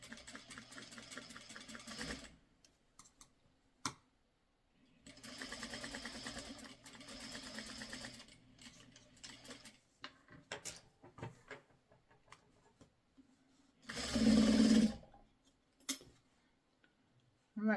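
Quilting fabric from a pre-cut canning jar quilt kit fed through a sewing machine, which gives several bursts of fast stitching of a few seconds each, close and fairly loud, separated by quiet pauses with handling noise.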